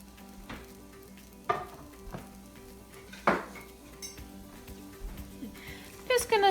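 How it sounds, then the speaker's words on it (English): Onions sizzling in oil in a pan, a low steady fry under sharp clinks and scrapes of a utensil against the pan, with a voice talking over it. "I'm gonna add in my onions. I should hear a little bit of a sizzle."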